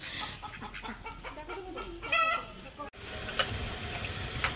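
Chickens clucking nearby with a few short rooster-like calls, in a rural spot where ducks are also kept, followed by a sharp knock and faint background noise.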